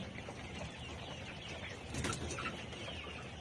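Layer pullet chickens cluck softly amid a busy, noisy farm background, their calls blending together without pause.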